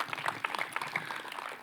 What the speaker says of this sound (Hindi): मैं चाहता हूँ कि एक बार जोरदार तालियाँ उनके लिए भी बजा दी जाएँ